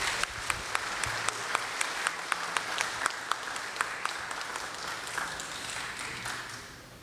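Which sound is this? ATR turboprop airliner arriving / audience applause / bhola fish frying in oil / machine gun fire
audience applause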